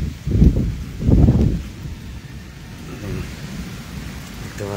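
Heavy storm with strong wind and rain, two loud rumbling bursts of thunder close together early on, then a steady rush of rain and gusts continuing alone.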